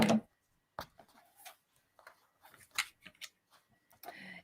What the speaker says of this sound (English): You can trim that off as well as you're working your way around.